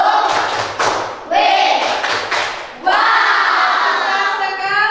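A classroom of schoolchildren claps for group 2 in several loud, rhythmic bursts, their voices chanting and cheering along between and over the claps.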